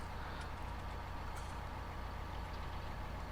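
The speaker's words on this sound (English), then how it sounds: "turn off the engine there. I don't know why it sounds like it's still running." A farm vehicle engine idles in Farming Simulator 19, a steady low rumbling drone that holds constant and moderately loud throughout with no other sounds.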